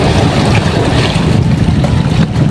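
Strong wind buffets a fishing boat at sea, a loud, close roar of gusts and microphone noise mixed with rushing water around the hull.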